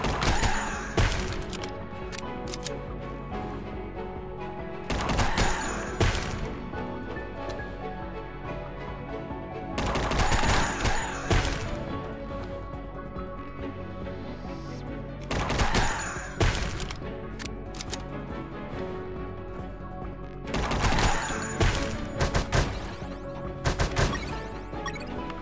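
Gunfire in the video game UnMetal comes as repeated bursts of sharp, loud shots and crashing impacts roughly every five seconds over a constant game background.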